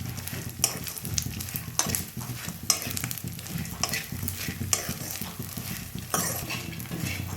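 Gond, edible gum, frying in hot oil for laddoos: a continuous sizzle broken by regular stirring scrapes and spoon clinks against the pan, close and fairly loud.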